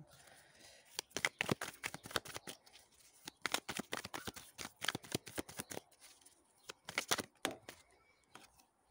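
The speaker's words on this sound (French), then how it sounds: "Je vais tirer une carte supplémentaire." Tarot cards shuffled by hand in quick bursts of crisp riffling flutters, repeated several times with brief pauses between, close and fairly quiet.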